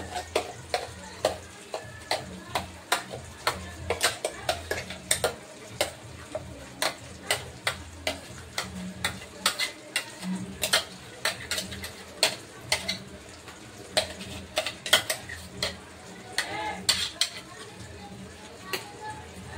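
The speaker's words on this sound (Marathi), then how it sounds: "मी एका भांड्यात काढून घेते" Utensils clinking as freshly made gravy for bhindi bhaji is transferred into a bowl: a long run of sharp, irregular metallic taps and ticks, close and fairly loud, over a low kitchen background.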